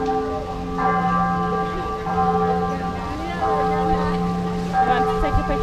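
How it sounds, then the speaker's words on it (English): A bell rings outdoors in Guadalajara, Mexico, its sustained metallic tones striking repeatedly and lingering over a steady outdoor background. "Yeah, the bell's ringing."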